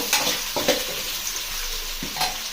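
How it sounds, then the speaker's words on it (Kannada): Food frying over a medium flame in a pan, a steady sizzle with intermittent scraping stirs, close and alone with no talk. "ಮೀಡಿಯಂ ಫ್ಲೇಮಲ್ಲಿ ಇಟ್ಕೊಂಡು ಚೆನ್ನಾಗಿ ಫ್ರೈ ಮಾಡ್ಕೋಬೇಕು"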